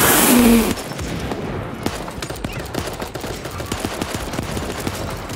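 Rapid gunfire in the video game Super Animal Royale, a dense run of sharp shots after a loud opening burst, fairly close and continuous.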